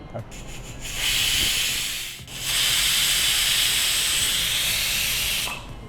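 A pressure cooker cooking mudganna (rice and moong dal huggi) vents steam through its whistle in a loud, sustained hiss that swells in, dips briefly, then hisses steadily again before cutting off, with no talking.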